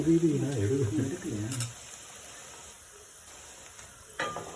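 Onions for a South Indian fish gravy sauté in a pan over medium heat, giving a steady soft sizzle. A voice talks over it at first, then the sizzle continues alone with a brief clatter near the end.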